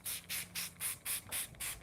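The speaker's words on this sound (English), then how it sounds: "let's show you how we can just give this a spray" Seven rhythmic hissing bursts from a trigger spray bottle misting cleaner onto a surface stained with bubblegum ice cream and ice lolly residue, each spray short and fairly close, evenly spaced with brief gaps.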